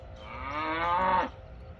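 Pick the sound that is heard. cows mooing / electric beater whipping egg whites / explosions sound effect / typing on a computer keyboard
cows mooing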